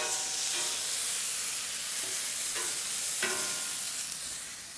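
Mushrooms sizzle in oil in a hot pan, a steady close-up frying hiss with a few brief bursts of crackle as pieces are stirred or moved, no voices.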